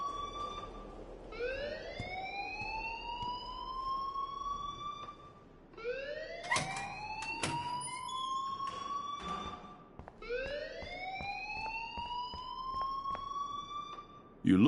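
A wailing alarm in the video game Life Is Strange rises and falls in three long siren cycles, loud and steady, with faint voices and clatter beneath.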